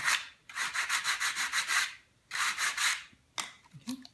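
A sanding block rubs back and forth across wood in quick, rhythmic strokes, two bursts of steady scraping followed by a few shorter passes, close and alone.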